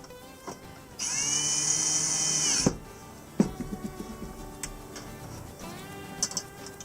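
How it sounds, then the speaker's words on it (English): A cordless drill drives screws securing the cover of a Werner compact attic ladder, one loud sustained whir of a screw going in, then a series of close clicks and short bursts of tool noise. "then you put the last two screws in that secure the cover to this thing"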